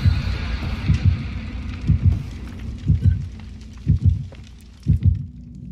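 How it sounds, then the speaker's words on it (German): A pounding double-thump heartbeat, the terror radius warning from the horror game Dead by Daylight, repeats roughly once per second, loud and low, with faint game ambience beneath and no talk. "Ich habe Herzklopfen."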